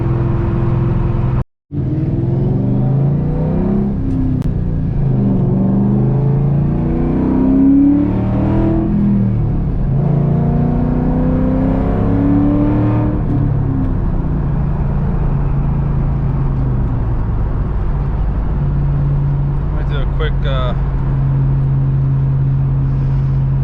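A 2001 Ford SVT Cobra with 4.10 gears pulls hard from a roll in third gear, its engine roaring loudly from inside the car as the pitch climbs steadily through a long sustained run.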